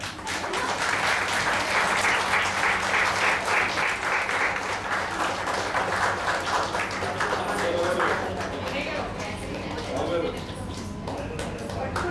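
An audience at a felicitation ceremony breaks into sustained, dense applause, loud and close for most of the stretch before easing off toward the end, with voices faintly beneath.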